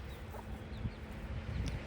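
Chicks cluck softly and intermittently while climbing around a pallet and pecking for bugs in folds of vinyl, small faint calls over a low rustling background.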